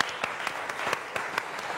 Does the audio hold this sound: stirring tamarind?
no